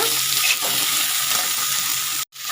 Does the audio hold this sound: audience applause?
no